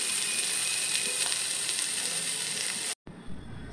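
Jute leaves fry in a pan with a loud, even sizzle and light stirring throughout, then the sound cuts out abruptly near the end before a faint, quieter tail.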